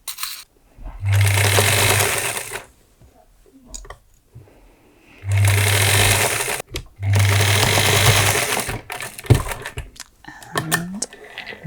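A sewing machine stitches pinned fabric in three loud bursts of rapid whirring and clattering, each lasting one to two seconds, separated by quiet pauses with small handling sounds and a brief voice near the end.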